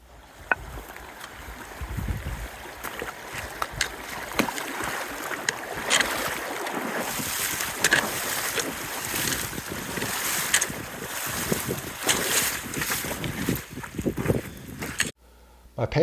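Wading through a river crossing on the Continental Divide Trail in New Mexico, with steady splashing and rushing water close to the microphone throughout, wind buffeting over it and a brief stop near the end.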